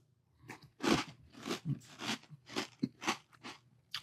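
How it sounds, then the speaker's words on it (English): Pebbles Crunch'd cereal being chewed up close, with a rapid series of loud, dry crunches and bites in an uneven rhythm and no talking. "This must be the crunchiest cereal I have ever eaten."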